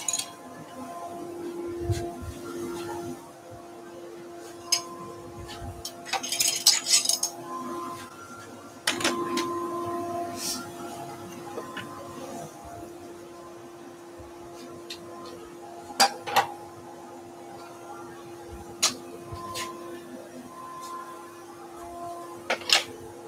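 A disc sander fitted with 120-grit paper runs during garden tool restoration in a woodworking shop, a steady motor hum underneath scattered knocks and clicks.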